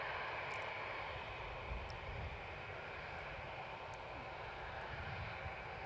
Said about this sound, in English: We've got a 737 departure that has pushed back and turned